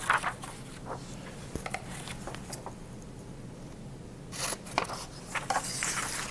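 Scissors cutting a paper crayon tip out of a sheet, heard as close, quiet snips and paper rustles that come in irregular bursts and get busier toward the end, with no talking.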